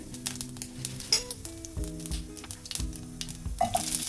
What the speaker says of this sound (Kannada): ಸಾಸಿವೆ ಹಾಕ್ತಾಯಿದ್ದೀನಿ. ಜೀರಿಗೆ